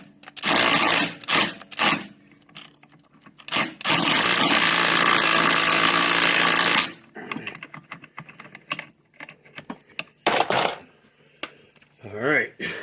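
An impact wrench tightens parts on a 1997 Vespa P200E scooter during a rebuild, giving short bursts and one sustained rattling hammer lasting about three seconds, close, between clinks and handling noises.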